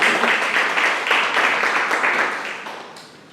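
An audience at a Korean university lecture event applauds, a dense burst of many hands clapping together that fades toward the end.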